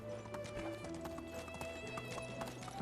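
Donkey hooves clop in the Medieval Dynasty video game, a quick run of distinct hoof beats over a steady tonal game soundtrack, fairly close and continuous throughout.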